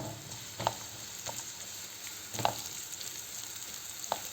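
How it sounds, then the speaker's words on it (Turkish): Onions sauté quietly in a pan, a soft faint sizzle broken by a few sharp utensil clicks against the pan. "önce soğanlarımı kavuracağım biraz"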